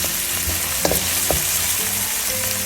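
Food sautés in a pan with a constant bright sizzle and a few soft scrapes or knocks of stirring, close and fairly loud, with no talking.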